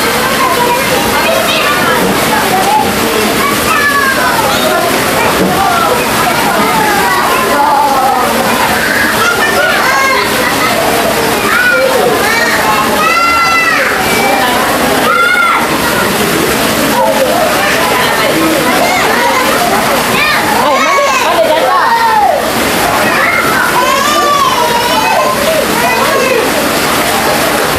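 Children splash and play in a swimming pool, with constant loud sloshing and splashing water mixed with excited shouting and chattering voices throughout.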